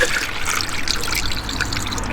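Water trickles and splashes steadily as it is poured into the cooling system of a Nissan S13 coupe with a swapped SR20DET engine, a continuous close pouring sound with no talking.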